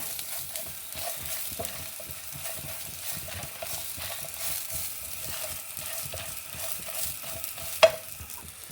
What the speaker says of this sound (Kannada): ಸಬ್ಸಿಗೆ ಸೊಪ್ಪು ಹಾಕೊಂತಾಯ್ತು, ಅದನ್ನು ಚೂರು ಹುರ್ಕೊಂಬ.